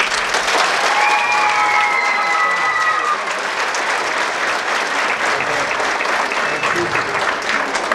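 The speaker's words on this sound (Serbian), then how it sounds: "veliki aplauz za naše najmlađe, kao i za prvi tim folklornog ansambla" An audience at a folk dance ensemble's annual concert applauds loudly, with dense steady clapping throughout and some crowd noise. A brief tonal sound rises over it early on.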